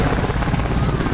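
An Indian Air Force helicopter flies low over a hospital in Patna during a flower-shower tribute, its loud, close rotor roar filling a brief, continuous stretch.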